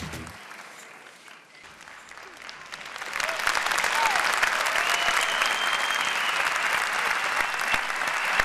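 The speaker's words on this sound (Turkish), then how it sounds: "Burada bir büyük alkışta Hülya Avşar'a tabii ki." An audience in a TV talent show studio breaks into applause that starts quietly and swells into loud, sustained clapping, with a voice audible at the start.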